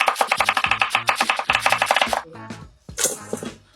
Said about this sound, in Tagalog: We just chop it into shredded cut.